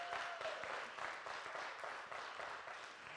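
Congregation applauding at a church service, a steady wash of many hands clapping at moderate distance, fairly quiet and even throughout with no talk over it.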